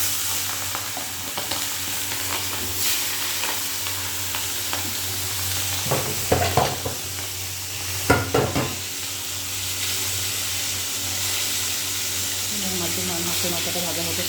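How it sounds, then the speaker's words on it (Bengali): A fish head fries in hot oil, a steady close sizzle broken by a couple of short bursts of clattering stirring, with no talk. "এবার মাছের মাথাটা ভাজা করে নেব"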